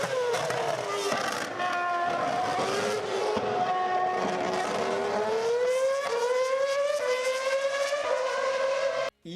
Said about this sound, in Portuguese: Eu vou estar deixando um vídeo aí passando na tela para que vocês vejam como que é o som específico do controle de tração.